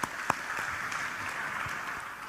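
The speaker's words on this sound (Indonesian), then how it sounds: "Mari kita berikan tepuk tangan bagi Tuhan." A church congregation claps together during a Sunday worship service, a steady dense wash of applause that holds at an even level throughout, with no speech over it.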